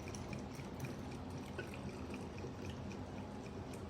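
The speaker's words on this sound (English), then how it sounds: "we're just gonna fill this with hot water here" Hot water pouring steadily into a bottle while diluting dish soap, a continuous soft rushing trickle close by and fairly quiet, with no talking.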